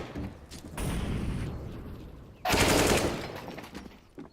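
Automatic gunfire in a Counter-Strike match, two loud sustained bursts close by, the second sharper and heavier, with no talk over them.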